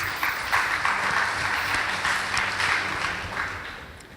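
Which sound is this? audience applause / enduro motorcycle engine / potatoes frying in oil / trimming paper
audience applause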